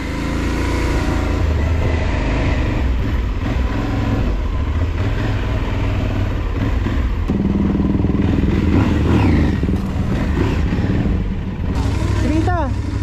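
A rider on an Aprilia Tuareg motorcycle, the engine a loud close droning rumble with wind noise and revs rising and falling, while people talk and shout over it.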